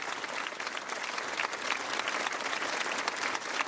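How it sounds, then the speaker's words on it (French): A large outdoor crowd in Nice applauds during a national mourning gathering after the attack, continuous dense clapping heard from a moderate distance, steady throughout. "Ce furent d'abord des applaudissements."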